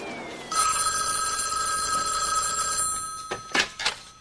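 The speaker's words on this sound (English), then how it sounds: "Thank God you answered the phone instead of Amy." A telephone rings with a bright, sustained bell trill, close and fairly loud, then a couple of short rattling sounds as it is picked up.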